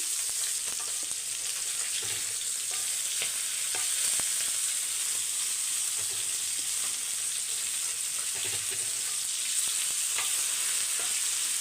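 Steady, bright sizzling of fish frying in a hot pan, continuous and close, with occasional soft pops and crackles throughout.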